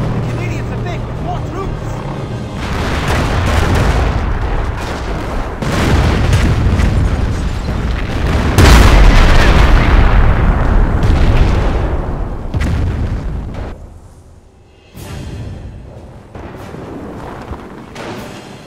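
Heavy rocket and artillery explosions in a Company of Heroes battle at the Falaise Pocket boom loudly in succession, with one especially powerful blast midway, rumbling debris and battle voices shouting among them.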